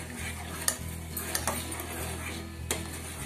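A utensil stirs jaggery into ragi malt in a pan, with metallic clinks and scrapes against the pan over a low steady hum and faint sizzle.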